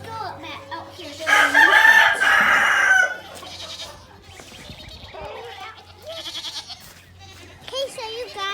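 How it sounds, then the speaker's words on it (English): Goats on a farm bleat loudly and repeatedly nearby, with a long cry followed by shorter calls, while people talk in the background. "the goats are so cute"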